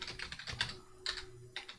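Computer keyboard typing, a quick irregular run of crisp close key clicks over about two seconds, with no voice.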